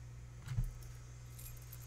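A bunch of keys jangling in The Walking Dead video game, one brief metallic rattle near the start that fades to quiet, faint and close.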